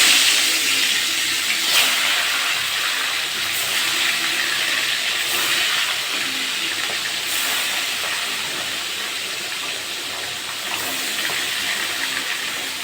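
Bhola fish frying in hot mustard oil in a kadai: a steady, loud sizzling hiss that continues evenly throughout, with no voices.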